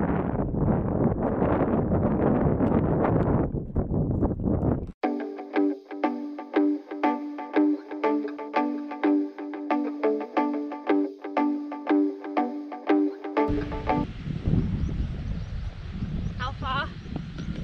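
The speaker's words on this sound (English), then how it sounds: "it's a bit windy, so I don't even know if you can hear me" Strong wind on the summit of Helvellyn in the Lake District buffets the microphone with a loud, rough roar at the start and end, while a stretch of music plays in between.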